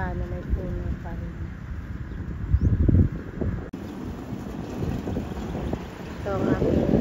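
Steady wind rushes and roars across the microphone while cycling, with faint voices underneath and gusts rising and falling, louder toward the end.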